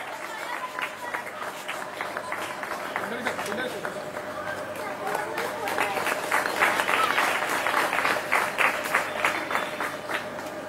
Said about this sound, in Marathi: सर्वांनी जोरदार टाळ्या वाजवून त्यांचं स्वागत करूया